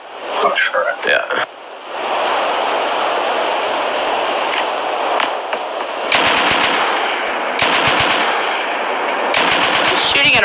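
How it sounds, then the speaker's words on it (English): Bursts of automatic gunfire in the survival game Rust aimed at a rock, with rapid rattling volleys near the start and again from six seconds on, over a steady ambient hiss and quiet talk. "He's shooting at a rock."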